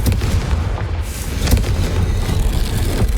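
A Confringo blast spell going off in Hogwarts Legacy, a loud, close, rumbling boom with a deep low-end roar that rolls on for a few seconds with a sharper burst midway.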